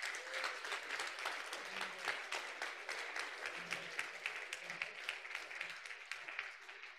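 Steady applause from a sizable crowd at a conference closing ceremony, dense clapping throughout at moderate level, with a faint murmur of voices underneath.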